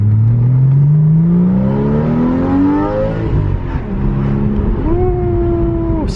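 A 2014 Porsche 981 Cayman S engine revs and pulls hard, pitch climbing steadily through a long acceleration, easing off, then rising again in a second shorter pull, loud and close with steady drone throughout.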